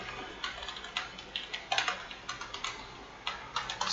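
Typing on a computer keyboard while entering Arduino code, a steady run of light, close key clicks in quick irregular bursts over a quiet background.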